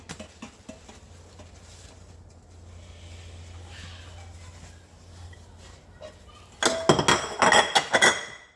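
Dishes, glass and chopsticks clink and clatter during hand washing at a sink, with quiet soft handling and occasional taps at first, then a louder, dense burst of clinking near the end.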